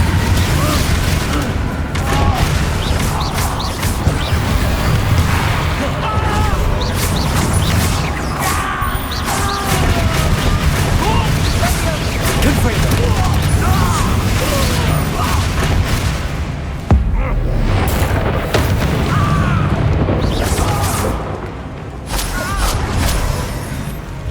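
Confringo spell explosions go off in the Hogwarts Legacy video game during the Solomon Sallow boss fight, a loud, dense, unbroken barrage of booms and crashing impacts.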